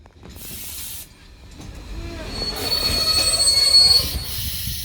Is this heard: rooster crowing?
no